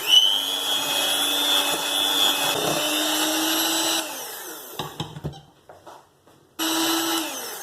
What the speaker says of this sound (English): And I'm just going to whisk it for about a minute.